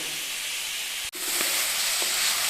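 Food sautéing in sesame oil in a pan for a Chettinad-style chicken dry roast, a steady close hiss of sizzling with a brief break and a few soft clicks of stirring.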